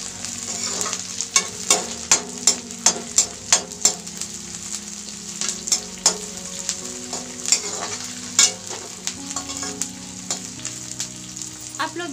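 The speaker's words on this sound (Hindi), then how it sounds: "अब इसमें हम डाल देंगे हरी मिर्च। अब इसे भी हम थोड़ा पका लेंगे अच्छे से।" Chopped onions and green chillies sizzle steadily in a pan while a spoon scrapes and stirs, producing a rhythmic series of sharp clacks and scrapes over the constant frying hiss, loud and close with no talking.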